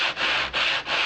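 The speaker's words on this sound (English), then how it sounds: "do your sanding" Sandpaper rubbed back and forth over model railroad roadbed in three steady strokes with brief pauses between, a close, dry scratching with no voices.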